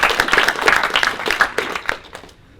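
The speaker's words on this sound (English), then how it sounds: "So can we have a round of applause for our panel" A conference audience at a Scala tooling discussion panel gives a round of applause, scattered individual claps near and crisp at first, thinning out and dying away toward the end.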